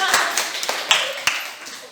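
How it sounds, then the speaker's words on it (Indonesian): A few separate claps in a physical education class, sharp and close, spaced irregularly over a couple of seconds, with faint room noise between them. "tepuk tangan dulu."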